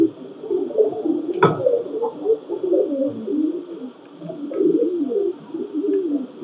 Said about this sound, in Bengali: প্রিয় দর্শক এটা আমার টেডি কবুতর